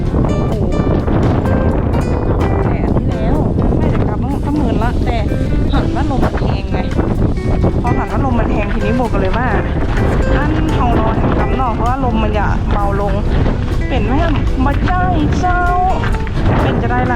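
Strong cold wind buffets the microphone in snowy Iceland, a constant loud roaring rumble with gusting noise throughout, while a person talks over it.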